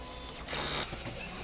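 DTF printer running a print head cleaning cycle, a short faint mechanical hum with a brief louder whir in the middle.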